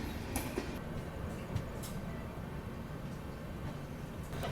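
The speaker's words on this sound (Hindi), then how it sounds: "सामने मेरे ख्याल से LTT राजगीर एक्सप्रेस का डिपार्चर यहाँ पे हो गया है" An LTT Rajgir Express pulls away from a station near Jivnathpur, heard from aboard a Patna–Delhi AC special train as a steady low rumble of wheels and carriages with faint clicks and rattles, no talk.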